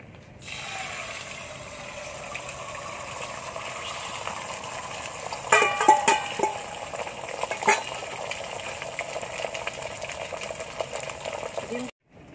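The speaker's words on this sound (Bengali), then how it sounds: "ডিমটা ভেজে নেব।" Egg frying in white oil in a pan on the stove for restaurant-style chicken fried rice, a steady close sizzle with clicks and spoon scrapes, while a voice talks over it.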